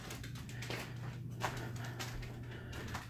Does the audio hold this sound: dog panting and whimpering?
yes